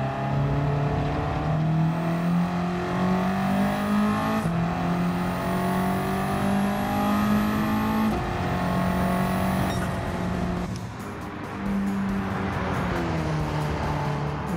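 A 1966 Renault R8 Gordini drives hard around a track in Gran Turismo 7, its small engine buzzing loudly and climbing through the gears with clear shift drops, close and continuous.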